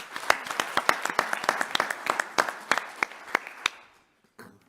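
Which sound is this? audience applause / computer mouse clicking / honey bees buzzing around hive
audience applause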